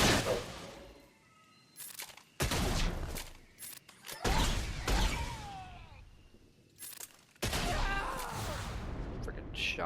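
Shotgun blasts in the Star Wars Galaxy of Heroes mobile game come as loud bursts of gunfire and shattering impacts, separated by brief pauses, with in-game sounds between the volleys.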